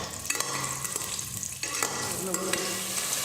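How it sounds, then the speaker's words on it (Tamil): Potato pieces frying in hot oil in a pan for potato biryani, a steady close sizzle with occasional scraping stirs and clinks throughout, no voices. "இப்போ இந்த உருளைக்கிழங்கை எண்ணெயோடு சேர்த்து நல்லா ஃப்ரை பண்ணுங்கள்."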